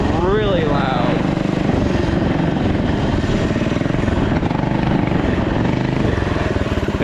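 An off-road mini quad's small engine running loud and close, a constant raspy buzzing drone with a brief rising rev near the start.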